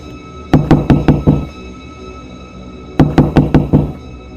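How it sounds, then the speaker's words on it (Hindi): Two bursts of knocking on a gate in a granny horror story, each a quick run of about five loud, close raps, separated by a pause of roughly a second and a half. "फिर से गेट खटखटाने की आवाज़ आती है"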